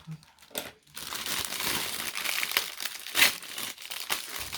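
Close, continuous crinkling of a plastic bag with sharp rustles and a quick tearing sound partway through, no talking.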